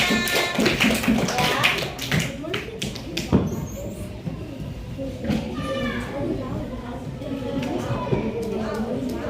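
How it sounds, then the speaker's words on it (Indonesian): A classroom of primary-school children clap their hands together, a dense ragged patter mixed with busy chatter and noise in a lively room. "tepuk tangan buat kalian semuanya"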